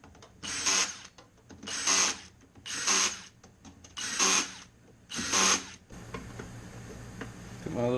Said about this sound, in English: I'm going to follow up with my drill to go ahead and lock them in